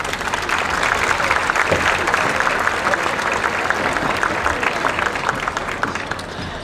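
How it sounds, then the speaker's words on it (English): An audience at the West Lampeter Fair Queen pageant applauds the evening's judges, a sustained crowd clapping that stays dense and lively throughout before easing slightly at the close. "Please give tonight's judges a round of applause."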